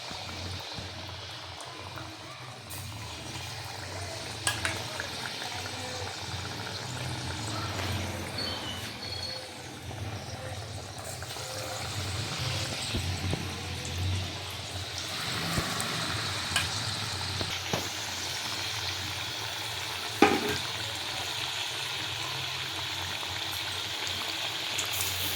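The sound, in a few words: batter-dipped fritters frying in oil for Gokul pitha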